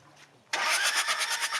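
After a brief quiet moment, a water-soaked engine's starter abruptly kicks in, cranking loudly with a rapid pulsing rhythm close by, in Madagascar.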